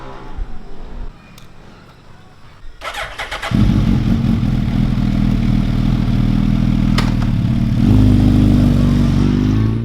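A Suzuki Hayabusa superbike in Islamabad, Pakistan, starts up after some quiet rustling, its engine catching with a burst and then settling into a loud, steady idle with a slight rise near the end.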